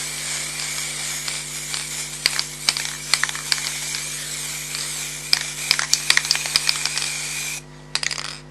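A steady hiss of sanding sealer being sprayed onto wood runs continuously over a constant low hum, broken by scattered sharp taps and clicks, before the spray cuts off abruptly near the end.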